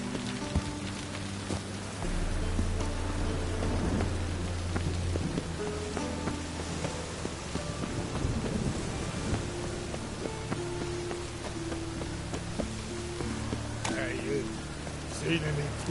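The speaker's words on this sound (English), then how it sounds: "I like rain. Keeps the rogues indoors." Steady rain pattering on surfaces in a PS4 video game, with a low rumble of thunder, running throughout under game dialogue and music tones.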